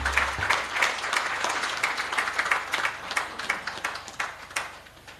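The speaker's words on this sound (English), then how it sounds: "Can we give him another round of applause?" An audience at the Limpopo agriculture summit applauds after the MEC's speech, a steady round of clapping from a crowd with individual claps standing out, tapering slightly toward the end.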